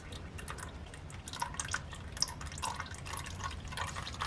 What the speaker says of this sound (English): We'll just let it continue to drain.